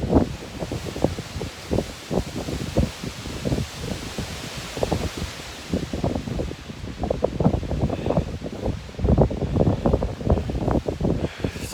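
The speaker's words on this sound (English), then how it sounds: "Wind's blowing." Wind gusting across a winter mountain trail in the Smokies near Mt. LeConte, heard as steady rustling through leaves and trees and buffeting on the microphone, rising and falling in dense overlapping bursts throughout, fairly close and moderately loud.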